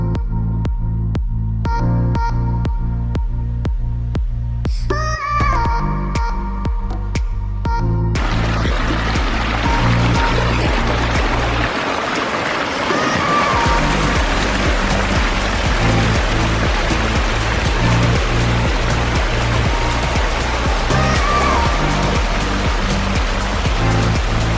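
A homemade double waterfall feature in a small backyard garden pours steadily, a dense continuous splashing wash that stays loud and close throughout, with no voices.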